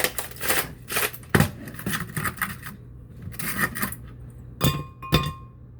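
An ice cube is dropped into a Hamilton Beach smoothie blender, giving sharp clinks and rattles in scattered bursts against glass, with quieter shuffling sounds between them.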